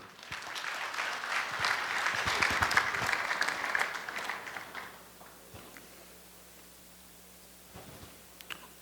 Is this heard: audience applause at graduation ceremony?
yes